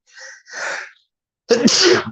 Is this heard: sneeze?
yes